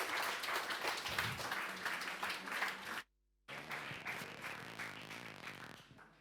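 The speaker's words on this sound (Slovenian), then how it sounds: "prosim velik aplavz za Marjana Doviča" A literary storytelling evening audience breaks into loud, sustained applause with dense clapping, briefly cut off for a moment before resuming at full strength.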